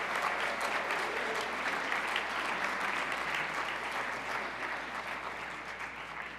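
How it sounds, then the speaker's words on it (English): Steady audience applause at an awards evening honouring nominees, a dense field of clapping hands that holds evenly for several seconds and eases slightly toward the end. "Let's give a round of applause to all of tonight's nominees."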